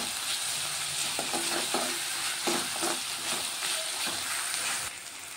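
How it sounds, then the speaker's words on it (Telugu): Ginger garlic paste frying in a pan gives off a continuous hissing sizzle, punctuated by soft scraping and tapping from a spoon stirring it, and it eases slightly at the very end. "కొంచెం అల్లం వెల్లిగడ్డ వేసుకుందాం."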